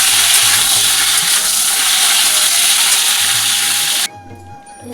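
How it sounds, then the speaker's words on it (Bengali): Pointed gourd and potato pieces frying in hot oil make a loud, bright sizzle with stirring clatter, cutting off abruptly near the end to a quieter hiss. "পটল আলুটা আমি হালকা করে ভেজে নেব।"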